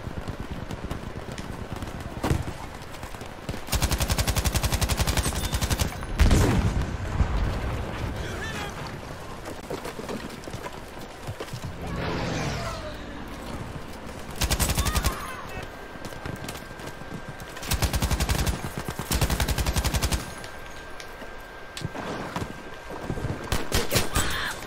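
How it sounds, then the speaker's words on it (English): MG34 machine gun fired in Battlefield V, loud bursts of automatic fire in several separate strings, with other battle noise and a steady tone between bursts. "Next is the MG34."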